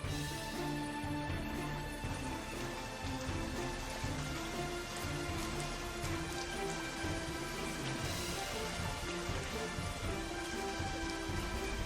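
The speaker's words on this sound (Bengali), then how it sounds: "আরে এই তো বৃষ্টি চলে এসেছে" Steady rainfall pattering on surfaces around a home during a rainy day, a constant moderate wash of drops with faint low rumbles in the background and no talking.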